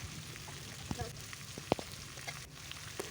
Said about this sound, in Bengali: কড়াতে তেল দিয়ে জিরে ফোড়ন দিয়ে একে একে সবজিগুলোকে তুলে দেবো।